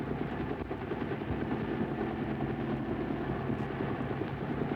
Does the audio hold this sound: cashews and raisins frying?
no